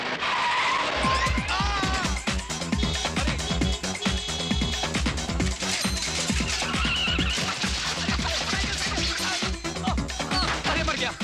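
A car is driven fast in a film scene, with loud revving engine noise and tire squeal and skidding across the whole stretch, mixed with dramatic music and crashing effects.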